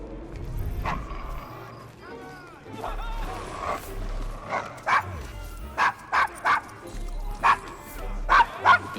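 A dog in the video game Assassin's Creed Syndicate, out of sorts around strangers in a rough London slum, gives a run of sharp barks and yips that grows more frequent toward the end, close by, with game ambience and brief speech earlier.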